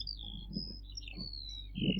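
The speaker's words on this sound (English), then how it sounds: "Mostly it's Eurasian skylark, and this time I managed to actually take a photo of one bird that was singing while descending" A Eurasian skylark sings while descending in Croatia, a continuous stream of high, thin warbling trills from a distance over low wind or handling rumble.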